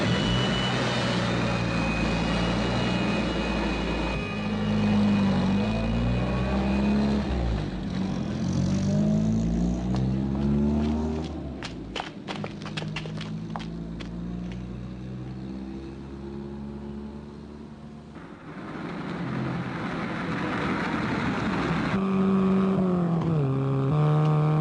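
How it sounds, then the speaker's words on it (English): Car engine revving hard during a fast chase drive in a 1969 British TV drama, rising and falling with gear changes, loud and continuous with dramatic music underneath and no talk. "This is not doing the engine any good, Jeff. It'll need a service after this."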